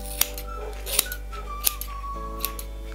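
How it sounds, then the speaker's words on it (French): Scissors snip through hair in a few sharp, distinct cuts spaced about half a second to a second apart, close and crisp against a quiet background hum. "je vais essayer de les couper tous les deux en même longueur."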